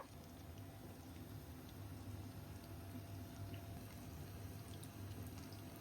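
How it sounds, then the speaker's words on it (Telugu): Chicken leg pieces deep-fry in hot oil, three at a time, over a medium to low flame. A steady, quiet, dense bubbling continues throughout with no speech. "ఆయిల్ హీట్ అయింది ఇప్పుడు లెగ్ పీసులు డీప్ ఫ్రై చేసుకుందాము"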